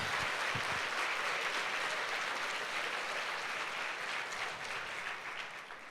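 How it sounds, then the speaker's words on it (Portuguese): Sustained applause from a church congregation during a Sunday service, a dense, steady patter of many hands clapping close by for the full six seconds, fading slightly toward the end. "Vamos dar um aplauso a Jesus?"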